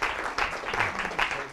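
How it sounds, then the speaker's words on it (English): Audience applause at a talk or workshop, a steady burst of clapping with swells near the middle and end, fairly close and dense. "Big round of applause for Keith."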